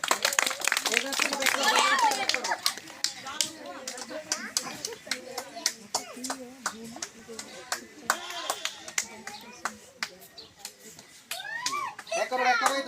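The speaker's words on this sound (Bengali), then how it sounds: "এখান থেকে সবাই তালি দাও জোরে তালি দাও" Children clap in sharp, scattered bursts during a spoon-and-marble race game, the claps mixed with lively kids' chatter and shouting from nearby throughout.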